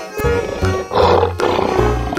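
A lion roars in a cartoon-style animal game with background music, a loud close roar rising over a bouncy tune, a few bursts within a couple of seconds.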